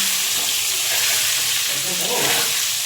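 Potato pieces fry in hot oil with a loud, steady sizzle and crackle that fills the whole stretch without a break.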